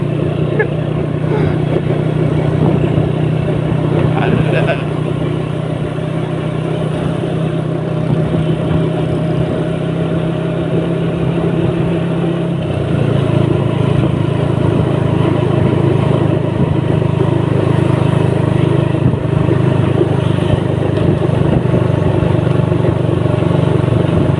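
A 1000cc motorcycle rides at speed with a continuous, loud engine drone close to the microphone. The pitch shifts slightly partway through, and the road noise is steady.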